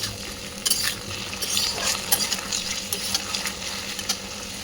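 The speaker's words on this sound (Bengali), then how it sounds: "দিয়ে আবার একটু ভালো করে নেড়ে চেড়ে নিয়ে ভেজে নেবো।" Potatoes and cauliflower stems fry in a pan with a steady sizzle, while a utensil stirs and scrapes through them in irregular, close bursts.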